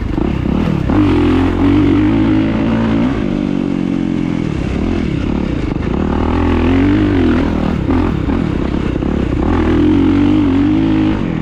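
A 2023 Kawasaki KX450SR dirt bike accelerating in third gear, its loud close engine rising and falling in repeated throttle pulls with rattly clatter, no speech.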